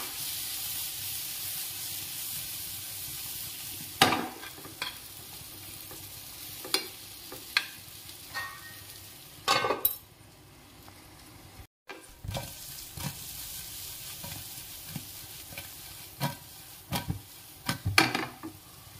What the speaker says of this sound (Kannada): ಬಟರ್ ಹಾಕಿ ಹೀಗೆ ನೀವು ಫ್ರೈ ಮಾಡಿದ್ರೆ ಉಂಟಲ್ಲ ಬೇಯಿಸಿದ್ರೆ ತುಂಬಾ ರುಚಿಯಾಗಿರ್ತದೆ